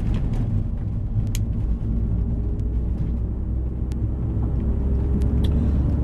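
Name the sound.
MINI Cooper S R53 JCW GP1 driving slowly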